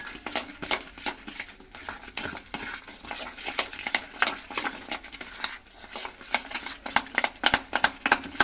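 Sugar being mixed into malpua batter made with ripe mango, steady quick scraping and stirring strokes against a bowl, close and fairly soft, with no talking.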